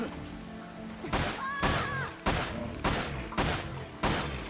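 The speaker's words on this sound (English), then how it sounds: "I'm just like shooting hails of like bullets into that kid's vicinity" Gunfire in the Dirge of Cerberus video game comes as six loud, sharp bursts spaced about half a second apart, each a cracking blast over a constant low game background.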